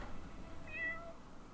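A single short, faint meow from a cat in the Dwarf Fortress video game, heard alone over quiet background.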